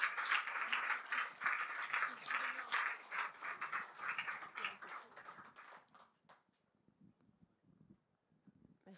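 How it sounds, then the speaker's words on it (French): An audience applauds a speaker at a morning talk event, fairly soft, steady clapping that fades out after about six seconds into near quiet. "je voulais qu'on l'applaudisse"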